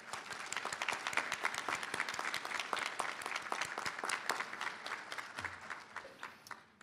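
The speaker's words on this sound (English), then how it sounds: "take a moment to give them a round of applause for being there for you" Sustained applause from an audience at a community college nurse pinning ceremony, many hands clapping fast and evenly in a large room, moderately distant and fading slightly at the end.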